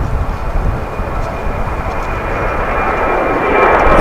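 A Boeing 787-9 airliner at DFW International Airport gives a steady, loud broadband engine roar that holds throughout and swells slightly near the end, with no voices.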